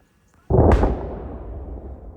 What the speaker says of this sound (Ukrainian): Ця темрява супроводжується вибухами постійними, які не утихають.